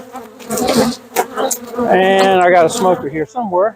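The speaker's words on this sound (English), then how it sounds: "so the bees will be able to crawl right into the opening here" Honeybees from a caught swarm buzz around a hive entrance as they are set down to crawl inside, a steady insect drone running beneath someone speaking nearby.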